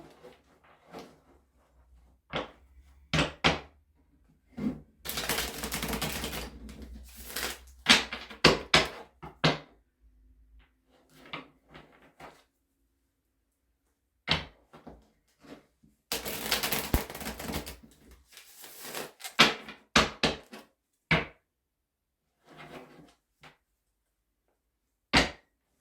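Tarot cards being shuffled by hand, bursts of riffling and rapid card slaps separated by quiet pauses, close and crisp, with scattered taps and knocks between.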